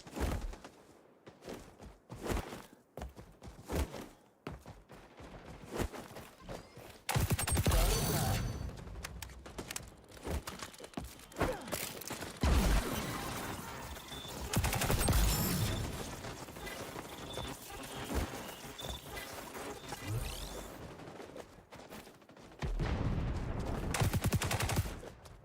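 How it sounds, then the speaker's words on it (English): RPK light machine gun firing in the shooter game XDefiant, with bursts of rapid automatic fire and scattered shots in a loud firefight, mixed with footsteps and a voice talking over parts of it. "Ooh, the RPK. That's an LMG"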